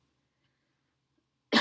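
A single short cough bursts out after near silence, close and fairly loud, at the very end.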